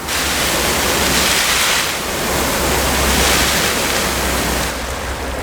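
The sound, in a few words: garden hose spray nozzle with heavy water flow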